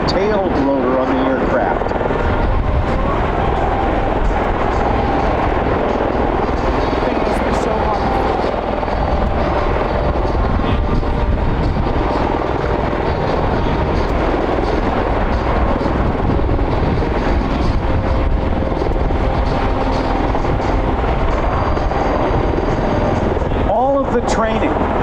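A loud, constant roar of rotors and engines from a hovering MV-22 Osprey tiltrotor aircraft performing a pedal turn at MCAS Cherry Point, close and sustained with a throbbing blade beat.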